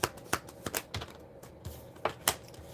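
Tarot cards are shuffled with a string of sharp, irregular riffling clicks and flicks, close and fairly quiet, with no voice over them.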